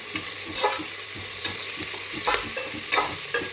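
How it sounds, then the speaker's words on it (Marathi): Chopped onion frying in a pan under a steady soft sizzle, with a spoon or spatula scraping and stirring at irregular intervals, heard close and without speech. "आता ह्याच्यामध्ये मी टाकायला लागली हा चिरलेला कांदा आता हा कांदा येईल ना छान असं सोनेरी कलर येईपर्यंत भाजून घ्यायचा आहे"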